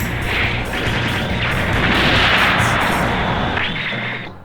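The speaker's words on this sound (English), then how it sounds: "grenades." Grenade explosions from the Mobile Suit Gundam: Federation vs Zeon video game, a dense run of loud booming bursts and crashes that swell and overlap over several seconds before fading.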